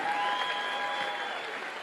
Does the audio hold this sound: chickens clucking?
no